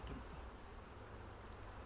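Honey bees buzz steadily in a dense, low drone, close by, with no talking.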